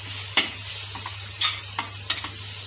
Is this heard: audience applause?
no